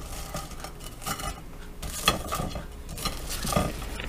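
Hot baked potatoes cut into chunks with a knife, giving several soft scrapes and taps of the blade on the board and pan, spread unevenly across the moment with nobody talking.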